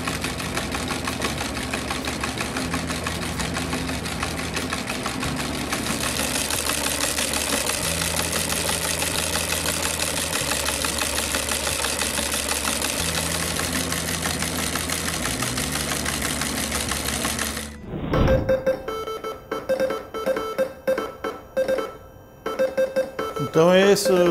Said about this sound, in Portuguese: Então esse é o telégrafo espanholete.